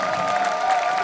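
A concert crowd in Piazza Manzoni, Jesolo, claps in a dense, continuous wash of applause, loud and close, with a sustained tone running through it and no break across the short moment.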